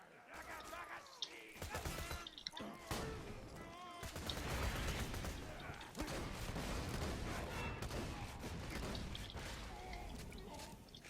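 Landscaper shotgun blasts from Borderlands 2 gameplay, a steady run of dense, loud bursts and impacts, with someone talking over much of the action.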